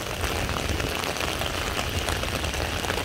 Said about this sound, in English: Heavy raining in New York City.